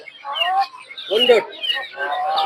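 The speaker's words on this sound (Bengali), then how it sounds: "এটা কোচিন মুরগি নাকি" A Cochin chicken clucks in short, throaty bursts close by at the Tongi poultry market near Dhaka, several calls in a row over quiet background.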